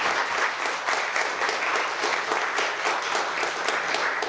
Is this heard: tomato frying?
no